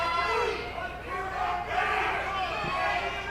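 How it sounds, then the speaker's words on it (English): An excited crowd roars and shouts at a live MMA fight night, a sustained swell of cheering with voices rising and falling. "Now you can hear the crowd getting excited."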